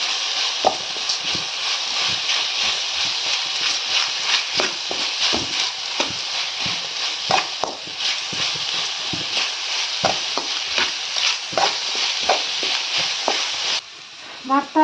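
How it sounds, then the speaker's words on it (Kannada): Loud, continuous sizzling of chicken frying in a pan, with regular scrapes and taps of a spatula stirring throughout. "ಫ್ರೈ ಮಾಡ್ತಾ ಇದ್ದೀನಿ ಫ್ರೈ"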